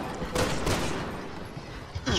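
Rapid bursts of game gunfire crackle in quick volleys, loud and close, with a few sharper shots standing out.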